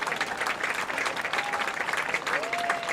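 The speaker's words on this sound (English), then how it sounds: "Big applause there." Crowd applause at a men's college soccer match, BGSU against IUPUI, a dense, steady patter of clapping from spectators throughout, with faint whistles or tones rising briefly over it.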